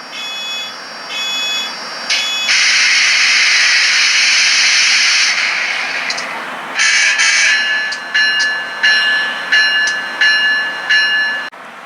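Model steam locomotive with a LokSound Select Direct sound decoder and TCS Keep-Alive starting up on powered track: loud steady hiss of steam, then a bell, then rhythmic chuffs with whistle-like tones as it moves off.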